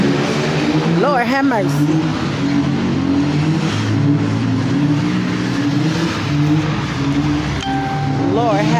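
Car engines roar and rev continuously at an Oakland street sideshow, with wavering tire squeals rising above the dense din and a crowd shouting and talking throughout.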